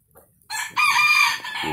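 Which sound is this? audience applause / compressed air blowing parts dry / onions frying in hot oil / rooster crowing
rooster crowing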